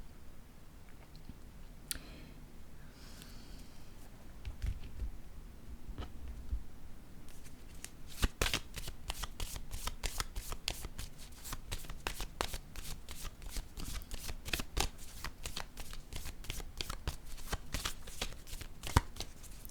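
Playing cards are shuffled by hand in a quiet room, first soft scattered handling, then a long rapid run of crisp riffling flicks, with occasional single cards drawn and laid down.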